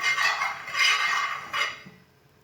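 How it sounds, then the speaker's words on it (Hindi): A spoon spreads oil across a pan while a mooli paratha is made, giving three soft metallic scraping swishes. Each stroke is close and moderately loud, followed by a quiet tail. "ऑयल को ना पैन में थोड़ा सा फैला लेना।"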